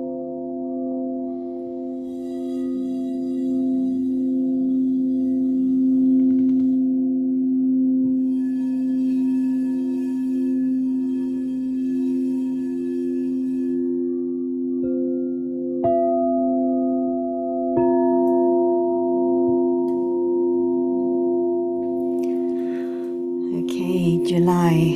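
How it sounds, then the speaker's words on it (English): Sound bowls struck and left to ring, their sustained, shimmering harmonic tones layering into a steady hum. Fresh strikes add brighter tones later on, all close and clear, with no talking. "I'm just going to play the sound bowls"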